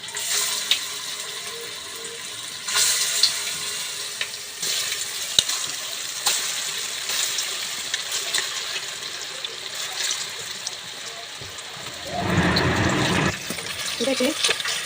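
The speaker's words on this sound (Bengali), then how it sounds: "তেল দিয়ে দিচ্ছি। একটা করে কোপ্তা দিয়ে দিচ্ছি।" Koftas go one at a time into hot oil in a heated kadai, giving a steady broadband sizzle throughout. A louder, fuller burst of spitting comes near the end. Faint talk sits under the frying.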